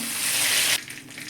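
Broad hissing sizzle of bay leaves dropped into hot oil with half-cooked chicken in a pan, loud for under a second and then dropping to a quieter crackle.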